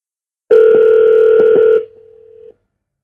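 A telephone ringing tone heard while a call is being placed, one loud steady tone for about a second and a half, then a fainter tone continuing briefly before it cuts off.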